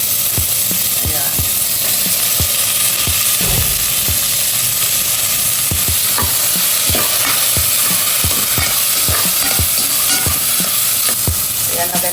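Garlic and tomatoes sautéing in a pan give a loud, continuous sizzle, punctuated by regular scraping knocks from stirring throughout.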